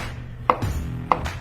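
A knife splits zucchini into strips on a cutting board, giving two crisp, close chopping knocks about half a second apart with no voices.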